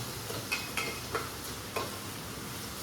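Chopped tomatoes cooking in a pan give a quiet low sizzle, with a few light clinks from a stirring spoon spaced through it.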